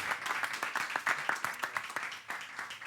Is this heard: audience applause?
yes